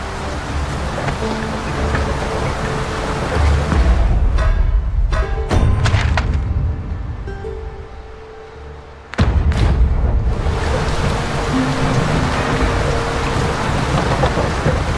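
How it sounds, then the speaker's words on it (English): Rain pours steadily and thunder rumbles and cracks overhead during a storm in the video game Dragon's Dogma 2, a dense, loud wash of rain with sharp thunder claps near the middle and no talk. "It is raining cats and drakes."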